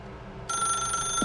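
A telephone rings in the video game The Stanley Parable: Ultra Deluxe. After a brief quiet hum, a bright electronic ring starts suddenly and holds a sustained, steady tone through the rest of the moment.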